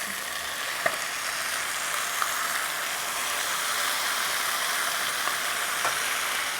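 Blended spice mix for Swahili chicken biryani sizzles and fries in a hot pan, a steady, moderately quiet hiss with a few faint clicks of stirring, no voices.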